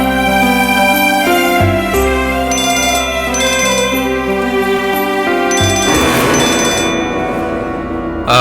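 A phone ringtone rings loudly and continuously, a bright repeating electronic melody with bell-like tones, alone without any talk.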